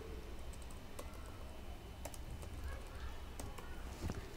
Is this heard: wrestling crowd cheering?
no